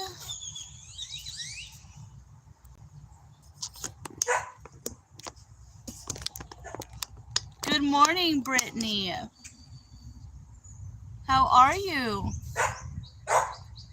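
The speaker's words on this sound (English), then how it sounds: "I'm sorry about the dogs barking." Dogs bark in short bursts at an outdoor morning chat on a cold day, the barks mixed with a woman's greeting speech and a steady low rumble underneath.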